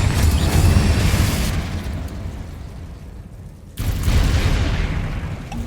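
Confringo explosion spell in the video game Hogwarts Legacy, a deep booming blast with rumbling decay, followed a couple of seconds later by a second heavy burst, loud and close.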